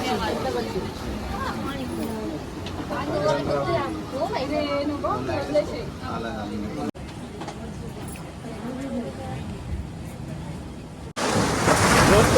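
Ocean waves wash against the seashore with a steady roar and some wind buffeting, heard beneath close, continuous talking.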